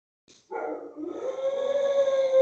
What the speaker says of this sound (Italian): Perché il cane abbaia? Ulula.